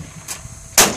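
A shotgun fired at a clay pigeon on an outdoor shooting range, one sharp loud report near the end of the clip, preceded by a fainter crack and low background rumble.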